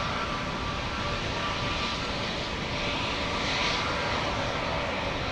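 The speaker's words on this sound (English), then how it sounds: "we have an A320neo from Austria" An Austrian Airbus A320neo jet airliner at Amsterdam Schiphol Airport gives a steady, broad engine roar that swells slightly toward the middle and carries on alone.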